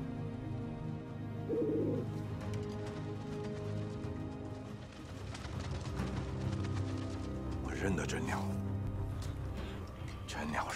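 A white pigeon coos softly in a scene from a historical costume drama, with faint bird calls near the end over a quiet ambient background and low voices.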